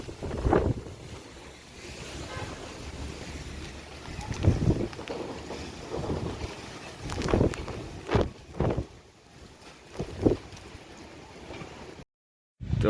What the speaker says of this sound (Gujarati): કેમ કે પવન જ એવો છે.